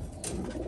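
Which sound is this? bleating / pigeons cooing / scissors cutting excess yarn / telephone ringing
pigeons cooing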